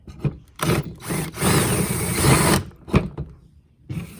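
Bursts of a power drill whirring in short spurts with a longer sustained run in the middle, close and loud, with brief pauses between, drilling through a DIY beach fishing rod holder.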